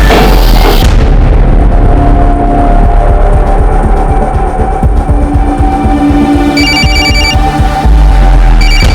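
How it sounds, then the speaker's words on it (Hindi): An electronic telephone ring chirps in short repeated bursts near the end, over loud, busy rumbling noise. "किसका फोन है?"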